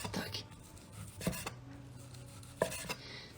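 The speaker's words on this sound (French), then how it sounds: "Et là, on coupe des tranches." A knife slices through rolled ham into thin slices, giving three distinct cutting thuds against a board spaced about a second apart, close and fairly quiet over faint background hum.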